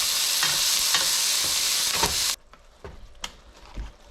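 Food sizzling and frying in a pan, a loud steady hiss that cuts off partway through, followed by quieter scattered stirring clicks and scrapes.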